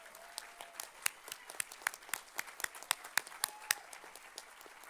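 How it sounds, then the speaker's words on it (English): An audience at an annual Cesar Chavez breakfast event applauds a business nominee, a fairly faint, scattered patter of hand claps with a few sharper individual claps standing out, steady for about five seconds. "Please, a round of applause."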